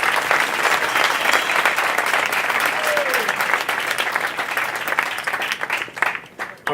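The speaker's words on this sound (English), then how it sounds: "can we give a huge round of applause to Kevin Hill Productions" Crowd at a high school jazz ensemble night in a coffee house applauds warmly and continuously, the clapping thinning and fading unevenly toward the end.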